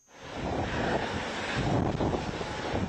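A private jet roars steadily, its engine noise rising in at the start and holding a broad, sustained rushing drone with some wind-like texture throughout.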